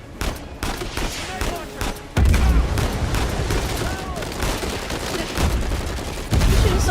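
Loud, rapid bursts of automatic gunfire from Apex Legends gameplay, sustained volleys with brief lulls, alongside faint voice chatter.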